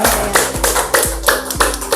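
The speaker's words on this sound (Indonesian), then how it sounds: "Tepuk tangan ya semuanya." A classroom group claps in rapid, slightly uneven bursts, loud and close, with no talking over it.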